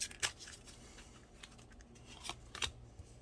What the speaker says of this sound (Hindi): आपके सामने ही सारे कार्ड शफल होते हैं, आपके सामने ही सारे कार्ड्स निकलते हैं।